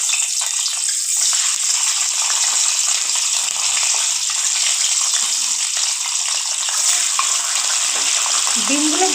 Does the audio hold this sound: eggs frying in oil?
yes